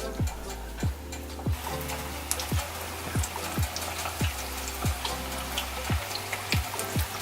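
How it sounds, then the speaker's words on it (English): Balls of hush puppy batter slipped one by one into hot frying oil, each drop giving a short plop over a steady hissing sizzle, about a dozen evenly spaced drops in close, clear succession. "once you've heated the oil and you've rolled your hush puppies, you're ready to drop them in"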